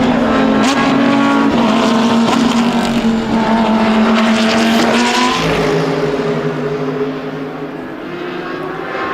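GT3 and GTC race cars screaming past at BalatonPark circuit during an ESET Cup GT race, loud continuous engine roar with rising and falling pitch as cars pass close, fading slightly toward the end.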